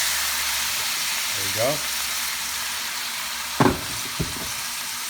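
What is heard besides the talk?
meat frying in a pan for Bicol Express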